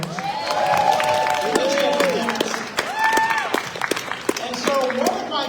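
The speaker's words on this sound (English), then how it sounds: "so give yourselves a round of applause, parents" Parents in an audience at a family empowerment event give a round of applause, steady clapping mixed with crowd noise and brief cheering and voices over it.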